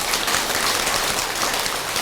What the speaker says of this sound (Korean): 모르면 박수를 치네.